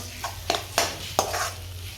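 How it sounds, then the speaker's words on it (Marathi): Soft sizzling of okra frying in a pan with a few quick scraping stirs and light clinks of a spatula, close and fairly quiet. "मी टाकते भेंडीची भाजी टाकते का अशी भेंडी भेंडीची भाजी केली मी आता"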